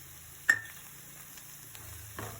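Coriander powder and spices frying in a pan, with a sharp clatter as the powder goes in, then a quiet, steady low sizzle and a soft stir near the end.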